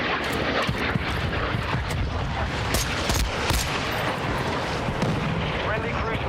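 A friendly airstrike in Call of Duty Warzone: a loud, dense, continuous roar of aircraft and rumbling blasts with scattered sharp cracks of gunfire, sustained throughout with no pause.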